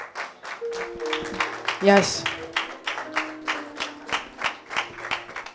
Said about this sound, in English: Because, yes, you need to clap